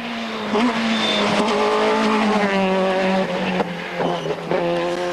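Peugeot 205 Maxi rally car with a sequential gearbox, its engine note loud and close, rising and falling through quick gear changes over about five seconds, with faint tyre noise.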